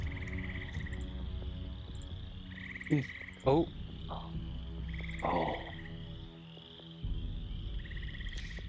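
Frog croaks in a looping sound effect: repeated rhythmic croaking at mid volume over a steady low ambient drone, with a few louder croaks and a short dip in the background, plus one brief spoken word.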